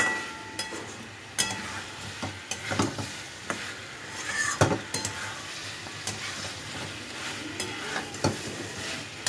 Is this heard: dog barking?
no